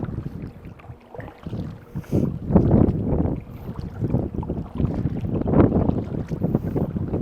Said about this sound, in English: I wonder if you guys can hear that wind, but you most definitely probably can